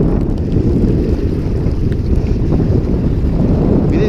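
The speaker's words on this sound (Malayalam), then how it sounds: "ഭയങ്കര കാറ്റ് കേട്ടോ, മഴയും കാറ്റും" Strong wind roars across the microphone on a small fishing boat out in rainy, stormy weather, a dense, continuous low rumble with the wash of waves beneath and no voices.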